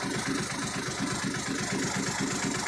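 A car engine fitted with a newly replaced turbo runs steadily with an even, rapid pulsing throb. It is loud and close, continuous, with a hissy top end and no talk.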